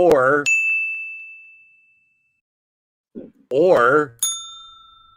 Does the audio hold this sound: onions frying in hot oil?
no